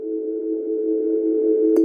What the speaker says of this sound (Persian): یه کوچیکی از این صدای نهنگی که موسیقی خیلی قشنگی هم کنارش هست رو با هم